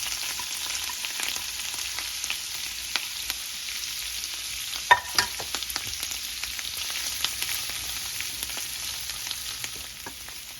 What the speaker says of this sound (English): We're going to saute this for just a couple minutes, enough to start the cooking process and to soften these vegetables up just a bit.